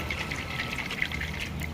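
A whole coconut is shaken so the water inside sloshes in quick, soft, rhythmic splashes, heard close and alone for a brief moment.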